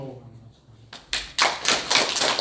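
A church congregation at a Sunday men's fellowship service starts to applaud, with clapping that swells in after a brief quiet pause following a spoken introduction and then continues fairly loud and close.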